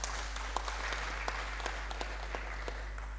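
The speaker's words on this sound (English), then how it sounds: "Let us give them a befitting round of applause." Audience applause at a graduate research forum closing ceremony, a soft, steady patter of many hands clapping at a distance for about three seconds, with no talk over it.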